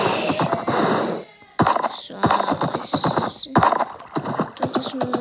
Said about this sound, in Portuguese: Vou ficar aqui com meus cavalos.